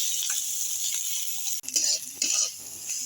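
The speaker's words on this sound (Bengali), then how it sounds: "এবার আমি পেঁয়াজগুলো হালকা করে ভেজে নেবো।" Onions frying lightly in a pan give a steady, soft sizzle, with a brief clatter of stirring partway through and no talk.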